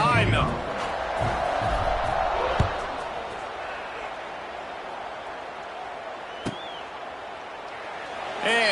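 Stadium crowd at an American football game, a broad sustained roar of cheering with a few sharp thumps, fading slightly as it continues; an announcer talks over it.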